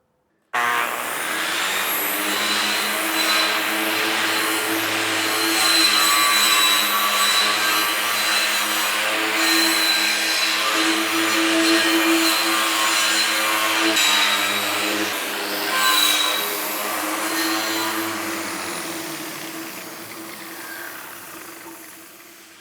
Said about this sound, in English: what more boring thing to watch than a guy with a big buffing wheel